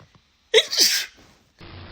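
A single sharp human sneeze bursts out, loud and close, with a brief intake before it and a quiet pause after, triggered while plucking eyebrows.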